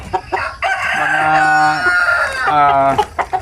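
A Basilan native rooster crows up close and loud, letting out two long drawn-out crows in quick succession with a few clucks between them.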